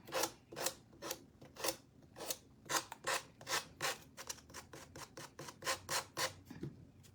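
Someone hand-sands a painted craft piece sealed with Mod Podge, a snow globe angel, in a steady rhythm of short rasping strokes. The strokes are close and fairly quiet, speeding up toward the end.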